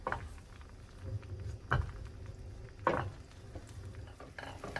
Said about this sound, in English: this is like foamy and simmering, so I'm gonna shut the heat off